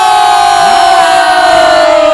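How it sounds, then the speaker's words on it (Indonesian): A crowd of friends and neighbours at a house gathering in Jogja cheers and whoops loudly, a continuous roar of voices with a sustained whistle-like tone over it, while applause is hard to pick out. "Boleh teman-teman kita kasih tepuk tangannya untuk Andanu"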